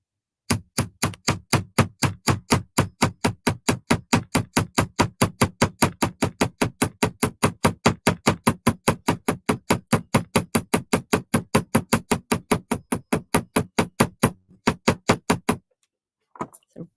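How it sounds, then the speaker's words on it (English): Steady metal hammering on seed bead flower jewelry links, about seventy sharp close taps in an even fast rhythm, with a brief pause near the end before a few final strikes. "And we're going to just start hammering."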